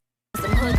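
A white horse whinnies loudly and close after a moment of silence, a single strong neigh with faint hoof sounds beneath it.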